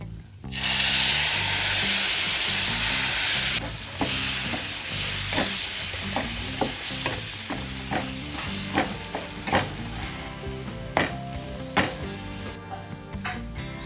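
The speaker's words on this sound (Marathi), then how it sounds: "त्यामध्ये आपण दूध घालूया" Milk hits roasted semolina with dry fruits in a hot pan, bursting into a loud broad sizzle that settles into a bubbling hiss, followed by repeated scraping stirring strokes that grow sharper toward the end.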